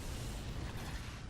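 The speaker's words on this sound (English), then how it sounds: "Grenade!" A grenade blast in the City of Heroes video game, a sustained low rumbling roar that fills the clip at steady loudness with no clear attack.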